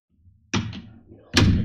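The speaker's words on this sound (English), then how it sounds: "you need to have a door close on stage" A synthesized door-close effect from an Omnisphere 2 sound FX patch: a soft low rumble, then a solid slam with a short tail, and a second, louder and brighter thud about a second later.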